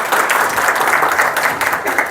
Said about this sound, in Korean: 김기명 부장을 큰 박수로 맞이해 주시기 바랍니다.